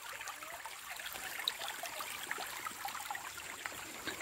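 Flowing water of a stream on a farm trek, a continuous gentle babble and trickle heard at moderate distance with no voices.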